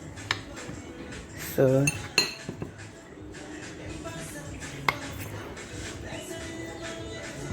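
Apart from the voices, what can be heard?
cutting a portion of yam bake in a pot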